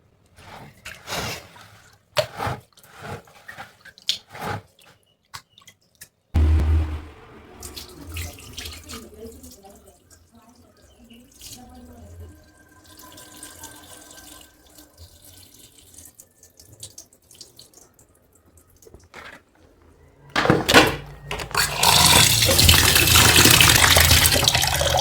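Ragi (finger millet) grains are washed in water at a sink, with splashy tap flow and intermittent swishing of grain and water. Near the end the tap gushes loudly and steadily, and faint voices appear briefly.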